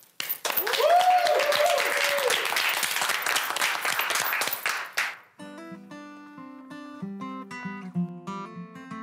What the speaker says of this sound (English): Let's give a big round of applause for our musical guest tonight